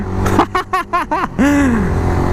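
A Honda RS150 V2 motorcycle engine revs close by in a string of short, sharp blips, then holds one longer rising rev that trails off.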